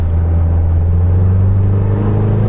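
Inside an Isuzu D-Max 4x2 Auto Plus pickup, the engine drones in a loud, steady low rumble while gears are shifted in manual mode, with no voices over it.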